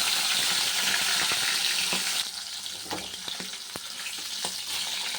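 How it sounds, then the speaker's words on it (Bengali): Hilsa fish pieces dropped into hot oil set off a loud, steady sizzle with a few sharp pops and clinks, the hiss dropping in level partway through and carrying on more quietly. "একটু মাছটা হালকা ভেজে নেব এ দেখো তেলটা গরম হয়ে গেছে মাছটা একদম ছেড়ে দেবো"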